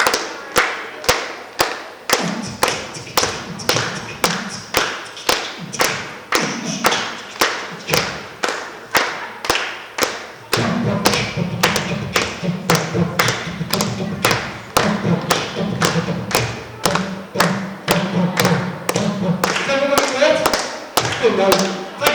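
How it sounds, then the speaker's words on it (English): Audience members at a live performance clap a steady, evenly spaced beat, loud and close, with sharp claps repeating for over twenty seconds while a voice beatboxes and talks over the rhythm. "Can anyone do a beat? Like a clap?"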